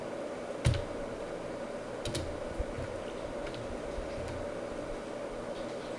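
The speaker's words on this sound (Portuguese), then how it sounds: "Teclado." Computer keyboard typing during a software lesson, sparse quiet clicks and taps scattered over a low steady hiss, with a few sharper keystrokes standing out.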